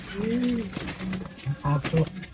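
An old pigeon in a loft gives a few low, rolling coos close by, with short pauses between the calls.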